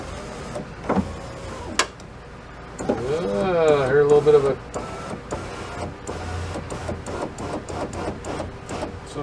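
A Buick Rendezvous power window motor whirs as the glass travels up to the top with a rising strained whine, ending with a short bump and a pop; someone talks over parts of it.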